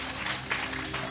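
A church congregation at a pastor's healing service gives a short burst of steady clapping, filling the room evenly, with a faint voice underneath.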